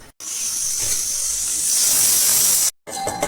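A pressure cooker whistle venting steam while cooking mushroom biryani: a loud, continuous high-pitched hiss that cuts off abruptly near the end.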